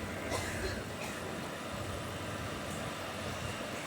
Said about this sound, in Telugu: లోకో వెళ్ళిపోతుంది ముందుకి